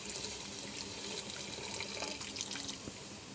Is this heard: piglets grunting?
no